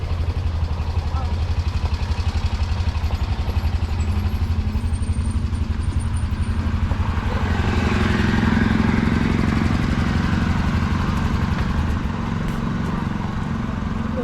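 Several John Deere 110 garden tractors run together at an old threshers reunion, with a steady near engine drone and clatter that swells briefly midway, and people talk in the background.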